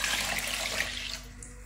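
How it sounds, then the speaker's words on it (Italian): Water pours into a pot holding rinsed quinoa, a close, steady rushing splash that fades slightly near the end as the flow eases off. "Ora aggiungo 400 g di acqua"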